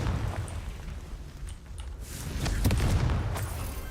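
Confringo fire spell blasts in the video game Hogwarts Legacy, a low rumbling boom with crackling debris, with a second heavier burst about halfway through, moderately loud with no talk.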